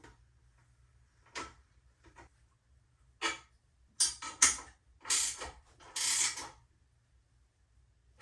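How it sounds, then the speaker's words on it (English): A ratchet tightens a bolt on a BoonedoX T-Bone truck bed extender, giving a few soft clicks early on, then louder bursts of rapid ratcheting between quieter pauses, with no talking. "Okay, then you'll take your wrench or your ratchet, whatever you're gonna do."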